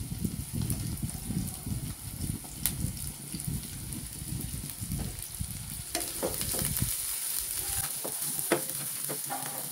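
Garlic cloves, ginger slices and nuts sizzle and crackle in a hot pan, with busy frying noise and occasional stirring scrapes, close and steady.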